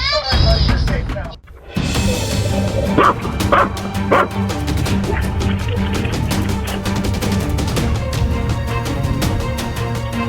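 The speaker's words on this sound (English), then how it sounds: "Growls and intense barking are heard." A dog barks intensely in a rapid, loud, continuous series of close barks and yips, with a whimper near the start and a short pause before the barking resumes.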